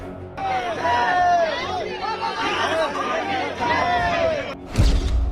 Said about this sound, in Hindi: एयरपोर्ट पर उमड़ी भक्तों की भीड़